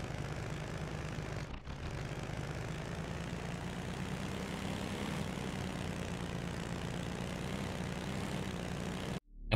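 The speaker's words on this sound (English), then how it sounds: "it even comes with its own engine sound effects, right out of the box." A video game car engine sound effect plays in an Unreal Engine demo, a steady low droning rumble with one brief dip early on, then an abrupt cutoff at the end.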